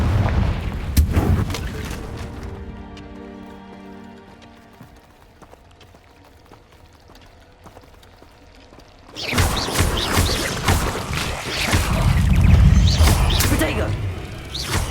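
Confringo spell blasts in a video game, loud booming bursts and crackling impacts at the start and again in the last third, with a quieter stretch of humming game tones between.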